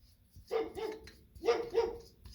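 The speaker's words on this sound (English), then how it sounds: "That's my dog barking for some reason." A dog barks four times in two quick pairs, fairly close, with short gaps between the pairs and no talking.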